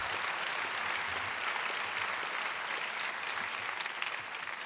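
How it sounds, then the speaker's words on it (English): A luncheon audience gives a round of applause, steady dense clapping from a large crowd indoors that holds at an even level throughout and tails off slightly at the end. "Let's give Wendy another round of applause, please."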